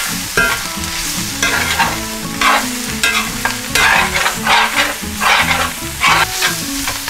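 Cabbage frying in a pan with a sprinkling of garlic powder, stirred with a fork: loud, close sizzling with rhythmic scraping and stirring strokes running throughout.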